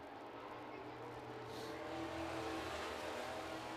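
Super trucks roar around an oval track in a sustained loud engine drone that swells gradually, heard from a distance as a pack coming out of the final turn.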